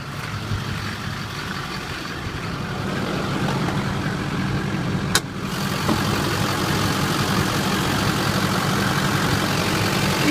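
A truck with 193,809 miles idles under its open hood, a loud, steady, low engine rumble with one brief click midway and no voices.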